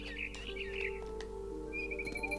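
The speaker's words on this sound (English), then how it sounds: "Then I heard chirping outside my window. It was a barn swallow going back to her nest." A barn swallow in the video game What Remains of Edith Finch chirps outside a window, a few faint, quick warbling calls over a low steady hum.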